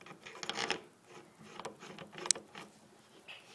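A copper cone is twisted onto the gun of a Harbor Freight 90 amp flux core welder, making faint, brief metallic rubbing and scraping sounds with a small click near the end in a quiet room.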